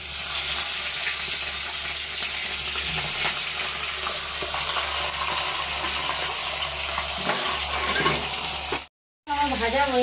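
Two salted, turmeric-rubbed fish heads fry in hot mustard oil with a steady, loud sizzle and crackle that runs unbroken, then cuts out briefly near the end before resuming.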